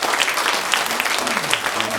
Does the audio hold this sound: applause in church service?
yes